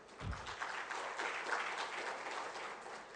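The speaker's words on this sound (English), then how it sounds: "Round of applause, please." Audience applause at a lecture on IT Act legal aspects, steady clapping from a crowd lasting a few seconds after a brief low thump, moderately distant.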